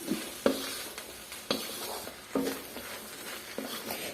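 Noodles with spring onion being stirred in a pan, a soft sizzle under sharp spatula scrapes and clacks that repeat about every second, fairly quiet and close.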